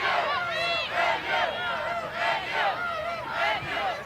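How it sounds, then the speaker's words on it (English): Crowd at a Big Ten softball game between Michigan and Northwestern, cheering and chanting in rhythmic waves of many voices, loud and fairly close. "Cats crowd getting into it."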